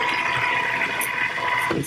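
A die cutting machine grinds and whirs loudly and unevenly, a sustained mechanical drone with brief clicks and rattles near the end.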